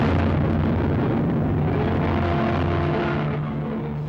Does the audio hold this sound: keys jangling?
no